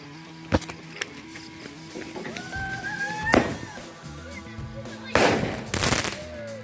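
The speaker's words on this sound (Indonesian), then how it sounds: "selanjutnya kita nyalakan petasan. Ini dia Bima Sakti Super Jumbo." A Bima Sakti Super Jumbo firework is set off outdoors with several sharp bangs and crackling bursts, a rising whistle among them, under faint background voices.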